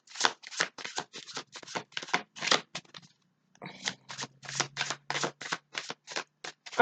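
Tarot cards shuffled by hand in a run of crisp, rapid riffling bursts, a brief pause near the middle, then more close, steady shuffling with a faint low hum underneath.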